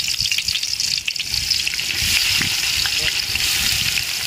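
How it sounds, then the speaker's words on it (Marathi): Onion dropped into hot oil in a cooking pot, giving a loud, bursting hiss and wet crackle that settles into steady close frying. "तर आता आपण त्याच्यामध्ये कांदा टाकून घेऊया."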